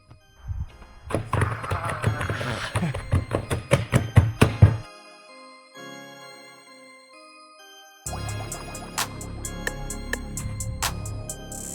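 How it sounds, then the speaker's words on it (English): Pieces are struck and crushed into powder with a rock or hammer: a run of sharp, close knocks and thunks for a few seconds, a short lull, then further rapid tapping blows. "get a rock or something, or a hammer or something. If you've got something better than that, you can, but just to break it all up"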